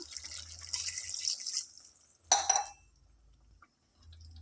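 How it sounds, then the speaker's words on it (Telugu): Water poured from a glass into a pan of frying mutton curry, a brief splashing gush after a stretch of sizzling, then quiet. "ఇందులో ఒక వన్ గ్లాస్ వాటర్ యాడ్ చేసుకుందాం"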